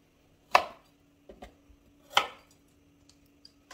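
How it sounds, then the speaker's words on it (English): A knife cuts the ends off organic carrots with the skins left on: two sharp chops against a board about a second and a half apart, with a few lighter taps between and after. "Now we need our carrots. And cut the ends off."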